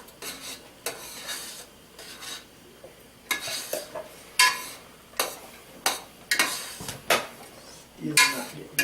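A spoon stirs Parmesan cheese into a mixture in a bowl or pot, making repeated close scraping and clinking strokes in an uneven rhythm, with no talking.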